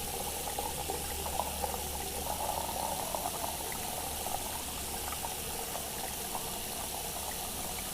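Water pours in a steady, even stream in the Cooking Simulator video game, a soft continuous trickle lasting several seconds with no speech.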